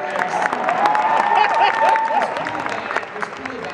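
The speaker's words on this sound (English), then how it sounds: "it's kind of a half applause" A Comic-Con panel audience gives a partial, scattered applause with some crowd noise, steady and moderately loud for a few seconds, with a voice talking over it.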